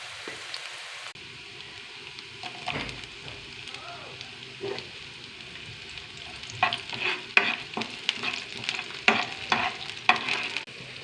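Drumstick leaves frying in a kadai make a fairly quiet sizzle with stirring scrapes, which grow busier in the second half with crackling pops and spatula taps.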